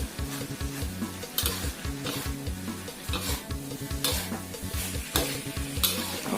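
Chicken and holy basil are stir-fried in a pan. A steady sizzle runs throughout, with rhythmic scraping strokes of a spatula and occasional sharper clanks against the pan, and no voices.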